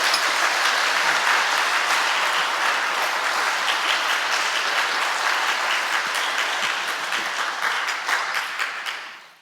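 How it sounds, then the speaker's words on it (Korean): A church congregation at a Sunday evening service gives a long, dense round of applause for visiting students, steady throughout and fading out at the end. "우리 학생들 격려 박수를 한번 보내주시죠."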